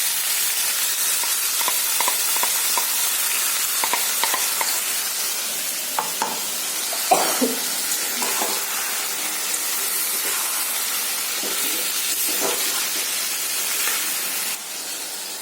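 Ginger garlic paste frying with onions in a pan makes a loud, hissing sizzle throughout, with intermittent scrapes and taps of a spoon stirring, close by and without speech.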